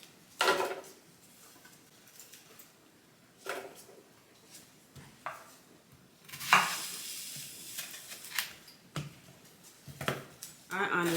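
Large onions go into a pot with hot peppers and fry, the sizzle rising in loud bursts between quieter stretches, with stirring and pot clatter and a voice talking on and off.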